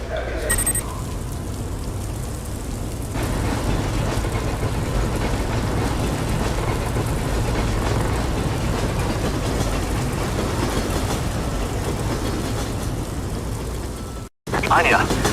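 A train runs steadily in the video game Project IGI, giving a continuous loud rumbling rattle that lasts the whole stretch and cuts out briefly near the end.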